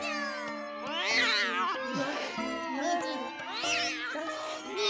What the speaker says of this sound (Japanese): 相手はたかが猫じゃないか。